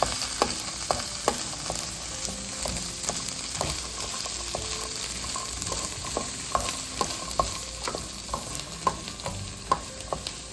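Chickpeas with a pinch of baking soda being stirred in a pot on the stove: steady spoon scrapes and knocks repeat through the whole stretch over a soft background hiss, close and moderately loud.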